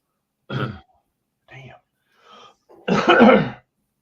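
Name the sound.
coughing and throat clearing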